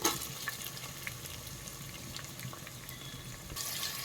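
Finely chopped green capsicum tipped into a hot pan with ginger, sizzling and frying steadily with faint stirring clinks, a brief crackle at the start and a louder hiss near the end.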